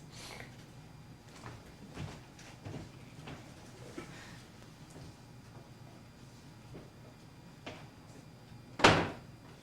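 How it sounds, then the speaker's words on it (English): A door is shut in a stage play, a single sharp thud near the end after a stretch of faint shuffling and quiet room noise. "it would be wise to close that door and look about for spies"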